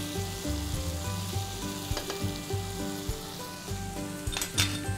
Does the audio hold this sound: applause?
no